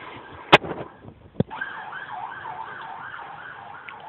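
A wailing siren rises and falls steadily at moderate distance, with a couple of sharp knocks just before it begins.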